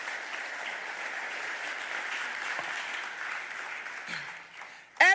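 A crowd at a mayoral budget address applauds for Green Space, giving steady, moderately loud clapping that tapers off before a voice cuts in at the close.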